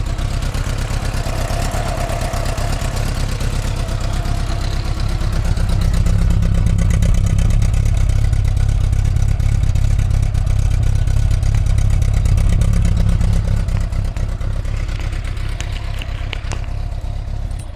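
Honda Goldwing with a four-cylinder boxer engine, running steadily at idle: a smooth, low, continuous hum with light mechanical clatter, close and loud throughout, rising slightly midway, with no voices.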